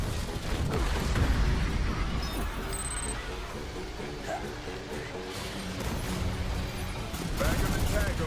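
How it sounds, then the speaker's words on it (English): Combat in the Aliens: Fireteam Elite video game, with a dense, continuous wash of gunfire and a grenade blast clattering away throughout. Players' voices talk over the din. "Grenade out."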